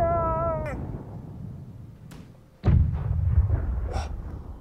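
Ship cannons fire in the naval video game Blackwake: a sharp, heavy boom bursts out mid-way and rumbles on, following a brief raised voice and a quieter thump.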